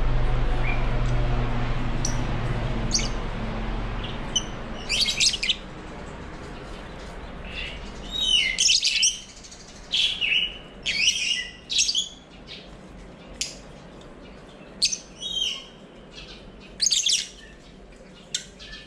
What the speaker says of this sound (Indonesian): si burungnya senang.